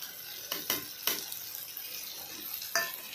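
Kardi chutney with kokum, red chili and garam masala being sautéed in a pan, a soft steady sizzle broken by several sharp spatula scrapes and stirs.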